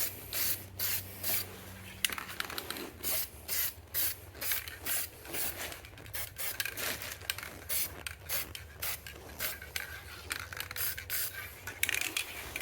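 Short bursts from a spray can paint a Nissan Xterra grill during a restoration, close hissing puffs repeating in an irregular rhythm with no talking.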